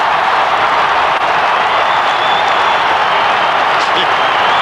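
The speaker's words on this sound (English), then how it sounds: "The roar of the crowd will tell us." A dense, continuous crowd roar at an AFL football match between Collingwood and Richmond, filling the whole stretch at high volume as a goal is kicked, with a commentator's voice mixed in.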